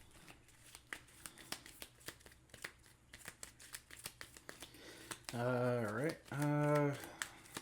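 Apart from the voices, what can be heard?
shuffling a deck of cards for a Marvel United board game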